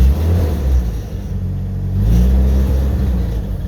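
A 1991 Chevy S10 pickup fitted with a DIY supercharger revs, its engine rumbling loud and close as it rises, dips slightly and climbs again over a few seconds.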